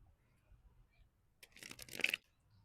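A deck of tarot cards being shuffled, a soft riffling burst of card noise lasting under a second, fairly close and fairly quiet, with near silence before it.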